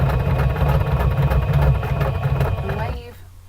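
A pedal-operated sewing machine hums in a steady low motor drone, running for about three seconds before stopping, while a person talks over it.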